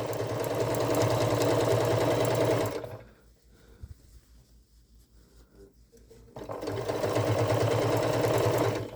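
A sewing machine stitches a Christmas stocking, running in a fast steady mechanical whir for about three seconds, pausing into near silence with faint handling sounds, then starting up loudly again.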